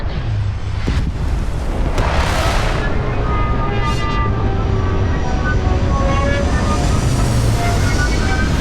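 A spaceship landing in Starfield, heard as a loud, continuous roaring rush of engine thrust with rising and falling whooshes, close and filling the scene.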